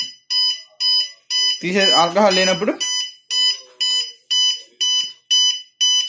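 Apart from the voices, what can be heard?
buzzer alarm of drunk-driving engine lock after alcohol detected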